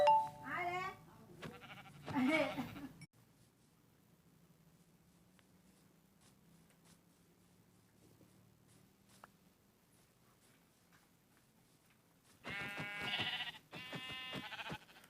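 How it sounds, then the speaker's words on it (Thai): Sheep bleat in the video game Minecraft, a short burst of bleats at the start and another near the end, with a long, nearly silent stretch of low hum between them. "ผมเจอแกะอีกแล้วทุกคน"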